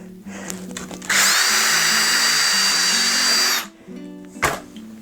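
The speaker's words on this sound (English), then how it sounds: "So I have the 4 holes drilled, and now I can take these rivets out." A power drill bores holes through a snowshoe binding during a repair, with one loud, steady whine of about two and a half seconds that winds down, followed by a sharp knock.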